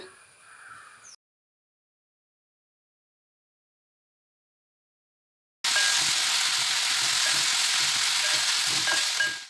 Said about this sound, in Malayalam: എണ്ണ നന്നായി ചൂടായി വരുമ്പോൾ നമ്മൾ അരിഞ്ഞ് വെച്ച് സവോള അതിലേക്ക് ഇട്ട് കൊടുക്കുന്നുണ്ട്.